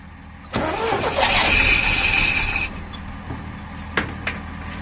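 A 1969 Chevrolet C10 pickup engine that had sat for 23 years cranks and catches, then roars loudly for a couple of seconds before dropping to a rough idle with a few sharp knocks.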